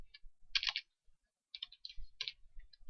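Bursts of computer keyboard typing during Unity game coding, a quick cluster of keystrokes followed by a pause and then more scattered clicks, close and fairly quiet, with no talking.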